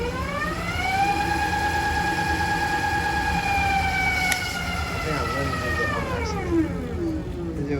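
A Super73 electric bike, a custom build with a large battery, revs its motor: a tonal whine that climbs steadily in pitch, holds, then falls away, close and continuous, like a rising siren.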